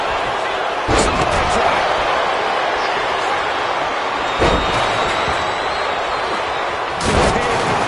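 Wrestling impacts smashing furniture in the WWE 2K25 video game: three loud, sharp booming crashes spaced a few seconds apart over a steady bed of crowd roar and game noise.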